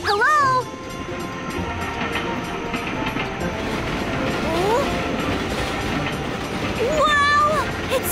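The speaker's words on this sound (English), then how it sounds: "A train hauling the world's longest line of freight cars is making news." A cartoon train hauls an extremely long line of freight cars, heard as rolling rail noise with clickety-clack beneath cheerful cartoon voices and squeaky vocal sounds throughout.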